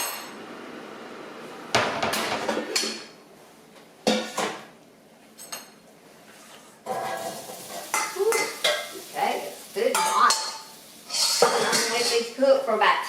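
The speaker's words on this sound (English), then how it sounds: "I'm just going to stir that up and add it to our air fryer" A utensil stirs and clanks against a bowl of food for corned beef and cabbage before it goes into an air fryer, with irregular scraping bursts, short pauses and a voice talking over parts of it.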